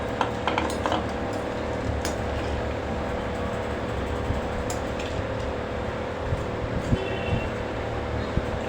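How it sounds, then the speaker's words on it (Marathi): Dry bhel snack with raw mango is mixed in a bowl, giving soft scraping and clinking of a spoon against the dish over a steady fan-like hum, with faint scattered taps. "छान मिक्स करून घेणार आहोत"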